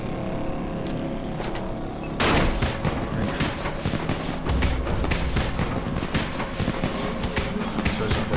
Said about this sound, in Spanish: si me pongo a dar tiros con la pistola, no dejan de venir víricos